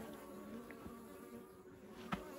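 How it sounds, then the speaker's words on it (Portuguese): Apis honey bees buzz around a swarm being captured from a termite mound in a pasture, a faint steady hum of a few insects flying close by with brief louder passes. "Tem algumas abelhas voando ainda"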